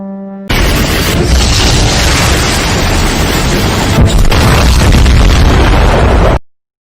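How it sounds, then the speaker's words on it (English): Mecha Gojira fire in a video game sets off a loud, continuous barrage of booming explosions that roars for about six seconds, with no talking, then cuts off abruptly. "departing Earth in a barrage of Gojira fire"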